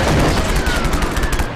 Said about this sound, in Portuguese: Olha aí os tiros, meu!